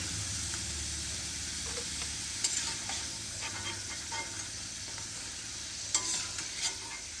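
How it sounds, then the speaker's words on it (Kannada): Potatoes frying in oil are stirred, a soft continuous sizzle under repeated scraping and clinking of a spatula against the pan, close and fairly quiet, with no talking. "ಆಲೂಗೆಡ್ಡೆನ ಬ್ರೌನ್ ಕಲರ್ ಬರೋವರೆಗೂ ಸ್ವಲ್ಪ ಎಣ್ಣೆಯಲ್ಲಿ ಫ್ರೈ ಮಾಡ್ಕೊಳ್ಳಿ"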